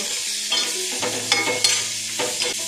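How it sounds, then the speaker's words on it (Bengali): Onion layers fry in melted butter in a pan for chicken do pyaza: a steady, close sizzle with repeated scraping and clattering strokes of stirring, and no talk. "বন্ধুরা, এটা খুব বেশি ভাজতে হবে না।"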